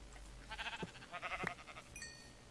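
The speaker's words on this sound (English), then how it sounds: "Ooh, a brown sheep" Bleats from a brown sheep in the Minecraft-style modded game Better Than Wolves, two short nasal calls about half a second apart, fairly quiet over a low background hum, followed by a brief bright chime-like tone.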